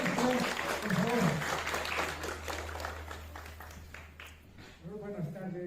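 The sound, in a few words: audience applause at wrestling tournament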